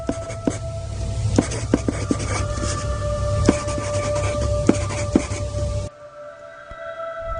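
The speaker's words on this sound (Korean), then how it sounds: "그리고 종이가 얼마 남지 않게 되었을 때 B는 무언가를 적었다" A pen scratching across paper as a radio drama effect, a series of close, crisp strokes and taps over a faint steady hum, ending with a quieter tail.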